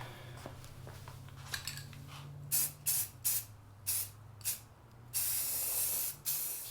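A 1940s Preway P4522 stove gets a second coat of spray paint: a series of close, sharp hissing bursts of varying length, the last ones longer, over a low background hum.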